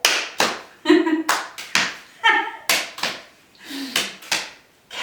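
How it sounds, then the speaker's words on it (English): Hand claps alternating with slaps on the leg during a seated movement class for seniors, a series of distinct sharp hits in an uneven rhythm, with brief speech between them. "So clap and tap the leg."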